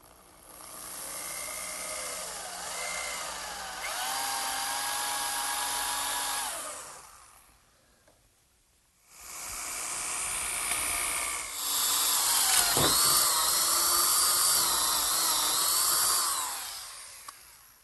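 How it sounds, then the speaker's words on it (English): A power drill with a 1 3/8 inch bit boring through an oak 2x4 for a workbench screw: a loud, steady motor whine with grinding bit noise, two long bursts separated by a brief pause. "I'm ready to drill a hole through the 2x4 in oak for my bench screw. And I'll do that with an 1 3/8 bit"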